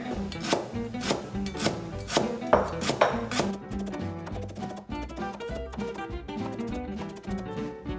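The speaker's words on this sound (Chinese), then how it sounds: "香茅切片" Kitchen knife slicing lemongrass and chopping bird's eye chilies for Thai-style chicken feet: rapid, sharp chops on a cutting board, close and loud, one after another with no talk.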